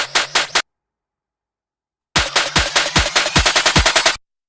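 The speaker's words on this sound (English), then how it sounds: "All my reverses and risers and stuff, and the guitar reverse reverb." Cinematic build-up effects for a dubstep-style track: a short stuttering burst, a pause, then a run of punchy hits that speed up into a rapid roll before cutting off abruptly.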